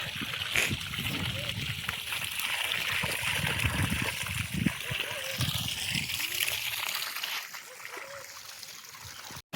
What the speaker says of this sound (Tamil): தண்ணியோட ப்ரெஷர் ஒன்றே கால் டெலிவரியில் ஒரு ரெண்டு இன்ச்சு மூணு இன்ச்சு தள்ளி அடிச்சுக்கிட்டு இருக்குது